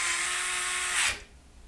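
A power drill driving short radiator screws through a 360 AIO radiator into the top of a PC case, a steady high whine held for about a second before it cuts off sharply, close and alone.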